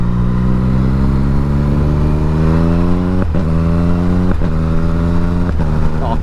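A 2018 Yamaha MT-09 SP motorcycle accelerates hard, the loud engine note climbing and then dropping sharply at three quick gear shifts in a row.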